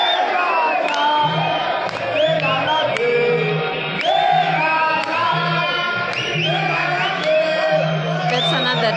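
Fans cheer and whoop for their players at a pool match between Blessing and Bullet Train, with a steady, loud crowd of overlapping yells and shouts throughout.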